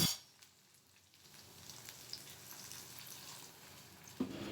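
Whole spices, including black peppercorns and cardamom, simmering in a pan after water is added, giving a faint, steady hiss and gentle bubbling throughout.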